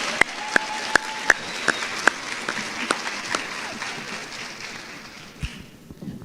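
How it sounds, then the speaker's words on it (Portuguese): Audience applause at the opening talk show of a health innovation event, a burst of scattered claps that builds into steady clapping and then fades away near the end. "Palmas para ela."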